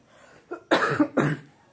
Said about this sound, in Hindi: खांसी एकदम शुरू हो जाती है